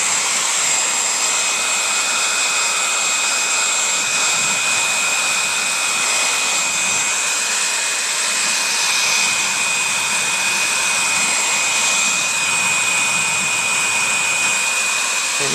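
A heat dryer blows steadily and close by, a constant airy roar with a thin high whine, used to shrink plastic sheeting over a broken car window.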